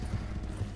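Horse hooves clip-clop at stables in a video game, a soft continuous patter of steps under a low ambient hum, brief and close.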